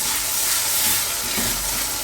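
Ginger garlic paste is stirred into onions frying in hot oil for a South Indian chicken biryani, giving a loud, steady sizzle with soft scraping stir strokes and a sharp clack of the spoon at the end.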